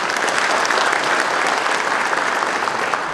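Sustained, dense applause from a large audience at a Seogwipo National Assembly member's 2024 legislative report meeting, steady and loud throughout with no break.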